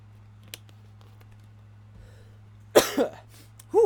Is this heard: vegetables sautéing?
no